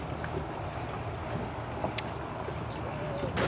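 A boat's motor drones steadily while cruising across a large lake toward a yacht harbour, a constant low hum with wind rushing over the microphone throughout.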